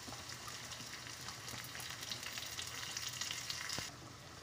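Cumin, garlic cloves, onion and curry leaves crackle in hot oil for an arbi leaf dish, a steady, close, loud sizzle that holds throughout with no voices.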